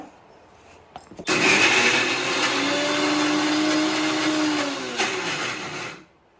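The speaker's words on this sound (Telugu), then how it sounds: "మిక్సీ కొట్టేసుకుంటా" A kitchen mixer grinder whirs steadily for about five seconds as it grinds green chillies, peanuts, salt and cumin for a ridge gourd chutney, starting after a click and cutting off abruptly, with no talk.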